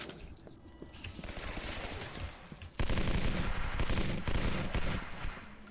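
Rapid automatic gunfire from a gun in a video game chatters in dense bursts, growing louder and harsher about halfway through and continuing without speech.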